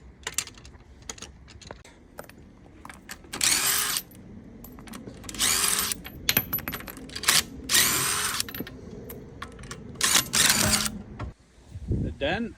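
A power tool undoing the wheel nuts on a Peugeot 508 before a brake pad change, several loud whirring bursts with clicks and pauses between them, close by, with a voice talking.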